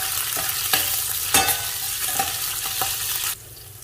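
Upma with vegetables and green chillies being stirred in a hot pan, a steady sizzle broken by several sharp scraping strokes, close and fairly loud, with no voices.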